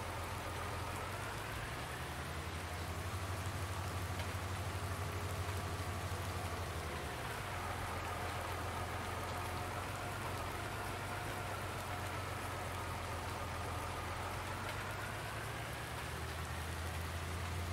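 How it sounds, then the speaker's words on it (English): Steady, even rain patters down in Farming Simulator 19 while a low vehicle engine drones underneath, with no voices. "I think the weather forecast said 3 o'clock or so we should be running out of this rain."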